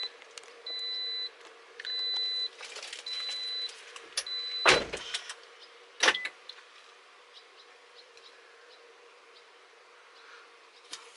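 A 2018 Toyota RAV4 remote start: several short beeps repeat at steady intervals over a low idle-like hum, then a couple of sharp mechanical clunks, and the hum continues afterward.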